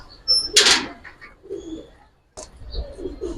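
Giribaz (Bengali tumbler) pigeons at a breeder's stall give soft coos and low bird calls in short bursts, with a brief flutter or door-like clatter and background murmur.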